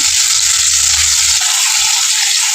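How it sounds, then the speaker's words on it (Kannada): A bay leaf, cumin and coriander fry in a pan for a spiced soup, giving a loud, steady, close sizzle with a low rumble early on and no voices. "ಪಲಾವ್ ಎಲೆ ಒಂದು ಸ್ವಲ್ಪ ಮತ್ತೆ ಸ್ವಲ್ಪ ಜೀರಿಗೆ ತೊಗೊಂಡಿರುವಂಥ ಕೊತ್ತಂಬರಿ ಎಲ್ಲ ಹಾಕ್ಕೊಂಡು ಚೆನ್ನಾಗಿ ಇದನ್ನು ಫ್ರೈ ಮಾಡ್ಕೊಳ್ಳೋಣ"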